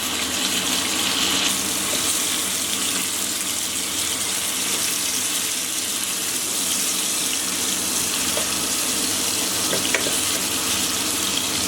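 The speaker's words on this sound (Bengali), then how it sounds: "আবারও উল্টে দিয়ে হালকা করে ভেজে নেব সবগুলো পিস" Meat pieces fry in a single pot with a loud, unbroken sizzling hiss that holds steady throughout, with only faint occasional ticks and no voices.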